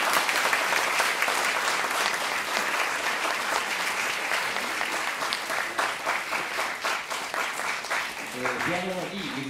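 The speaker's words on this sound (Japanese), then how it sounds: "もう一度大きな拍手をお願いいたします" Sustained audience applause after a live performance of Bach's Concerto for Two Violins in D minor, dense and steady throughout, with individual claps growing more distinct toward the end as a voice and instrumental tones briefly enter.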